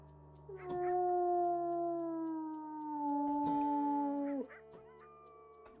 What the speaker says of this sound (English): I hear coyotes.